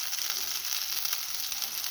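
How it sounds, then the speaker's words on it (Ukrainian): Potato pancakes fry in a pan with a steady, fairly quiet sizzle that holds evenly throughout, with no talking. "Смажеться, поперевертала, зараз підсмажеться."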